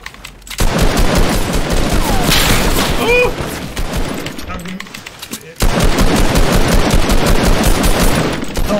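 Rapid automatic gunfire from the Fortnite video game, Season 8, in loud sustained bursts that drop briefly around five seconds before resuming hard, with a player talking over the shots.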